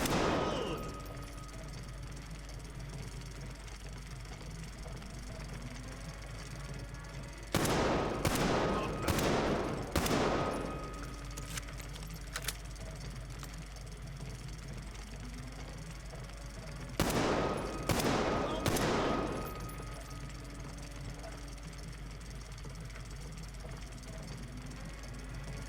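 Bursts of rapid gunfire at a target shooting range in the video game Metro Exodus: two clusters of four or five sharp shots, spaced apart over a low steady background hum.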